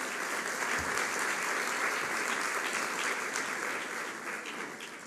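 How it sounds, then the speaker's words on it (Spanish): An audience at a high-level business and politics panel gives the panelists a steady round of applause, a dense, even wash of clapping that gradually fades toward the end. "Les pido que les demos un aplauso a nuestros panelistas."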